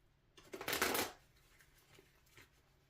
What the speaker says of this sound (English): But I'm clearing the cards over the incense.